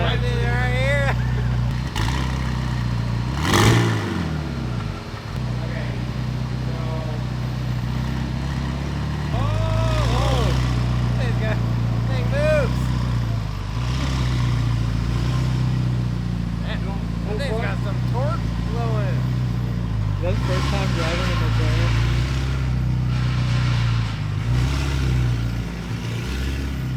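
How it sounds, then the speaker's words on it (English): A tuned BMW M4 (G82) holds a loud, steady engine roar with rising and falling revs during a burnout, close by and continuous, while people talk over it. "y'all want to see a fat burnout?"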